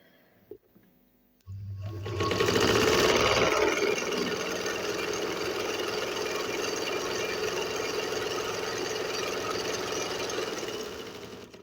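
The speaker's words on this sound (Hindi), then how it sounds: "हमने इस मशीन को तेज़ चलाना है, खाली धागे के बगैर" A sewing machine run fast without thread during maintenance, starting after a quiet moment and settling into a loud, steady, continuous mechanical whir and rattle that holds to the end, with no talk.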